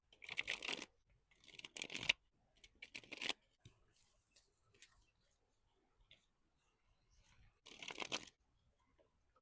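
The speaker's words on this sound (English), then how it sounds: "Let's shuffle your deck" Tarot cards riffled and shuffled in several quick bursts, close and crisp, with quiet pauses and faint handling sounds between them.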